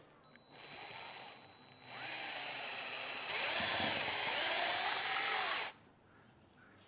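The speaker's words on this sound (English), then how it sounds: "We got a paint paddle, a paint stirrer for the drill" A power drill fitted with a paint stirrer paddle whirs steadily while mixing fermenting feed, climbing in pitch and loudness in stages before cutting off abruptly near the end.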